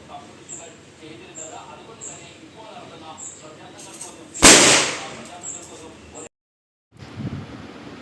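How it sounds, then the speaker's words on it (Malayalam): Firecrackers set off during a Vishu festival celebration at home: one loud burst crackles around the middle, standing out above a background of distant chatter and faint chirping. "അവർ പതിവ് പോലെ പടക്കം പൊട്ടിക്കൽ തുടങ്ങി"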